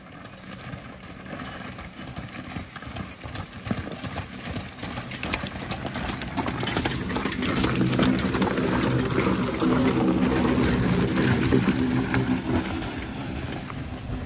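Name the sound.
horses' hooves clip-clopping while pulling a hitch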